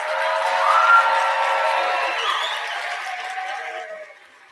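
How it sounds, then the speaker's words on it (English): A large audience applauds and cheers for welding graduates at a manufacturing training graduation ceremony, a steady wash of clapping that swells early, then slowly fades toward the end, with no voices over it. "Let's give a nice, big, warm, loud round of applause for all of our 25I welding graduates."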